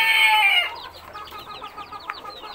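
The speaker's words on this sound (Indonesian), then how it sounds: "Ini anakan ayam bangkok." Young Bangkok-breed chickens kept in a backyard coop give a loud, close crow-like call, then a run of soft, rapid chirps and clucks that fade into the background.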